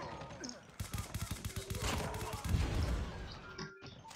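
Rapid, continuous minigun fire in Call of Duty Mobile, a dense rattling burst close and loud for a few seconds before fading, with a voice heard briefly.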